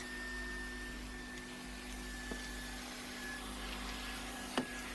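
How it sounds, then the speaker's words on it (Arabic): A household vacuum cleaner runs steadily over carpets and floors, a constant droning whine with a couple of brief knocks as it moves, fairly quiet and heard alone without speech. "بلشت رتبت البيت وشغلت المكنسة، نكنس بيها الفراش والأرضيات"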